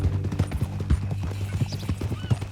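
Horse hooves clip-clop at a steady walking rhythm in Red Dead Redemption 2, close and clear, with a faint low background hum.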